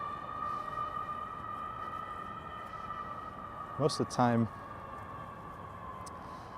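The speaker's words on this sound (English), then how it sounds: "Lots of sirens on the West Side Highway today." A steady siren tone drifts from a distance over constant traffic rumble on New York City's West Side Highway, with a voice speaking briefly partway through.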